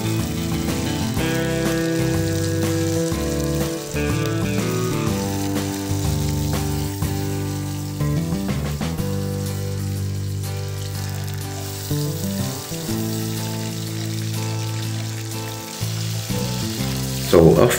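Chicken pieces fry briefly in hot oil, giving a continuous close sizzle and crackle, with clinks of utensils and tonal background music layered over it.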